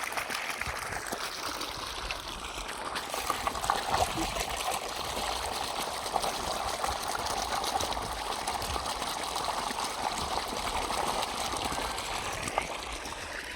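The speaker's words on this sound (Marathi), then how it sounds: "मोटर चालू करून 3 तास झाले आहे." A faulty electric water pump motor on a farm borewell pushes out a weak flow, heard as a steady, continuous rush and trickle of water lasting throughout, fairly loud and close, with no talk over it.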